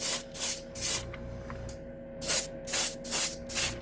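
An airbrush sprays Turbo Dork 2 cents paint in short hissing bursts, several close, soft pulses of air with a quieter stretch in the middle, over a faint steady background hum.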